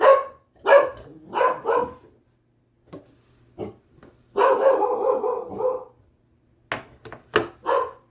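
Indoor dogs barking in a home kitchen, several loud, close bursts of barks and yips in uneven clusters separated by short pauses, with no talk over them.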